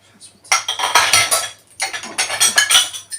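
Dishes and cutlery clatter and clink inside a household dishwasher during a wash cycle, two dense bursts of busy rattling separated by a short lull, fairly close and loud, with no talk over them.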